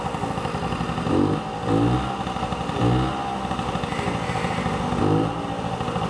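Vespa smallframe scooter engine running after a kickstart, with a steady close putter broken by several short revs.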